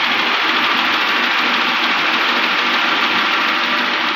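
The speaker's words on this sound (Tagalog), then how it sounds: "So mayroong lagatik pag kumaandar." The K24 engine of a 2007 Honda Accord runs with a knocking fault, a steady loud mechanical clatter and hum heard up close without interruption.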